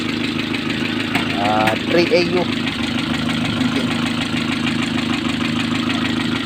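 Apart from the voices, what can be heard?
engine idling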